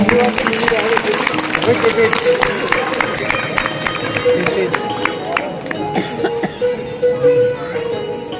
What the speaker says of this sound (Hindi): हमारे पार्षद जी के लिए जोरदार तालियां